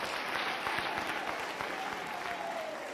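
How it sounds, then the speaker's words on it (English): Audience at a university graduation ceremony applauding with steady, dense clapping that fills the hall throughout, moderately loud and continuous without pause. "Let's give our council members also a big round of applause."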